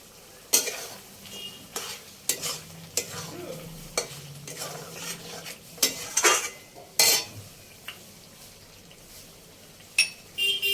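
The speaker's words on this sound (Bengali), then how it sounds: "ঢাকনা খুলে আবার একবার নেড়ে দেবো।" Chicken being stirred in an uncovered pan for a Bengali chicken fry, with a run of irregular scraping and clattering utensil strokes over a soft, steady sizzle, fairly close, with no talking.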